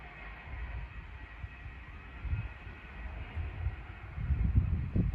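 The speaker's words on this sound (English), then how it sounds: "The next train to pass by is going to be at LNER Azuma from Lincoln Central to London King's Cross." An LNER Azuma train running from Lincoln Central to London King's Cross passes through Hitchin station on the East Coast Main Line, a low rumbling roar with steady hiss that swells toward the end.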